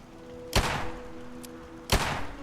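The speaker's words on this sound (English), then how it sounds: "So we are playing. We are shooting the gun" Two gunshots in the video game Fallout 76: sharp, loud bangs about a second and a half apart, each followed by a short fading tail, over a quiet steady hum.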